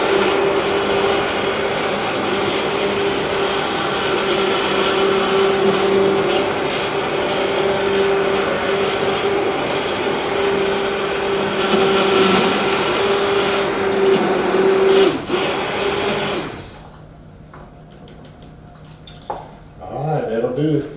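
A blender whirs steadily at close range, pureeing the ingredients for a bourbon and Coke glaze, running loud and continuous before cutting off, then leaving a quiet room with faint handling noises.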